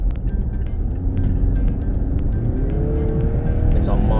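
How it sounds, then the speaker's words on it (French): A Mazda CX-9 Signature with a turbo engine drives along with a steady interior engine drone and road rumble, the revs rising near the end, while someone talks over it. "On sent l'agrément du moteur turbo"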